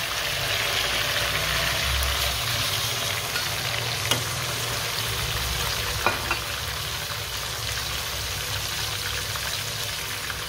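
Tomatoes, green chillies and coriander tossed into garlic frying in a pan for chicken tikka biryani, giving a steady, even sizzle with a couple of faint clicks from stirring and no voices.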